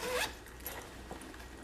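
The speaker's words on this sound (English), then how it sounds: "And then the top of it just zips up." Quick zipper pull closing the top of a JustFab purse, one short rasping zip at the start followed by faint handling rustle, close and fairly quiet.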